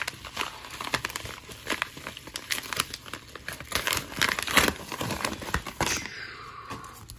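Plastic packaging and a team bag crinkle and tear as trading cards are unpacked, giving a steady close-up run of crackling rustles with a few sharper rips.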